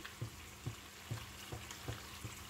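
Mutton karahi sizzling in a pan with coriander added, a steady hiss of frying broken by six regular soft scrapes and thumps as the contents are stirred, close and fairly quiet.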